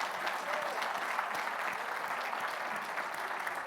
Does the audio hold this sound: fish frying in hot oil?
no